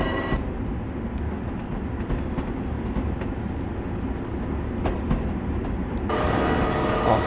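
Long Island Rail Road train in Train Sim World pulling away and gathering speed, a continuous low rumble of motors and wheels with faint rail clicks, close and steady, growing slightly louder near the end.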